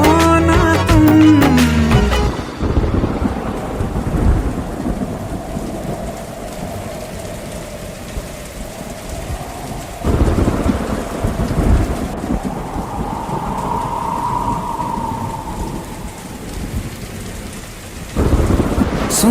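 Heavy rain pours steadily onto surfaces while thunder rumbles and rolls in long low swells, loud and close, after a short burst of music at the start.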